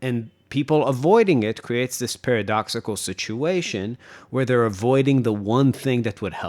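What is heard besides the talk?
No everyday noises stand out.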